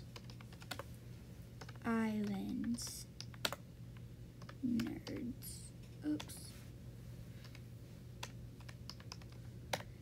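Quiet, scattered clicks of a computer keyboard being typed on while playing the Roblox game Wild Horse Islands, interrupted by a few brief spoken words.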